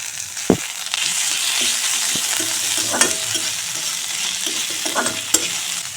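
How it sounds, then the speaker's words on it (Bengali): Chopped chilli, garlic and ginger paste frying in fish oil, a loud, steady close sizzle with occasional sharp ladle knocks and scraping stirs against the pan, no voices. "এখন দিয়ে দেব লঙ্কা কুচি দিয়ে দেব রসুন কুচি এখন দিয়ে দিচ্ছি আদা বাটা"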